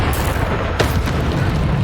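A Bombarda spell in Hogwarts Legacy goes off as a loud, rumbling explosive boom with a sharp burst near the middle, set within dense, continuous combat noise.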